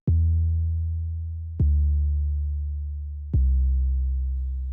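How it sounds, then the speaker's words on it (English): Three deep, sustained 808 bass notes land in a slow, even rhythm within a track, each decaying gradually before the next one hits, clean and alone with no other sound. "one is an 808 bass, which sounds like this"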